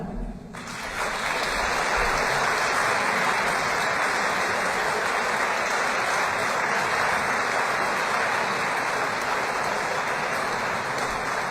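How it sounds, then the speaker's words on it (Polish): Sustained audience applause for laureates of the 2015 Kisiel Award, rising quickly into a dense, steady wash of clapping that continues evenly throughout. "Poproszę o brawo."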